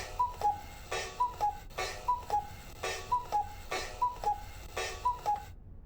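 Close, loud ticking from a cuckoo clock in Black Mirror II keeps a steady, even beat, every sharp tick trailed by small bright two-note chirps, cycling about six times before cutting off abruptly.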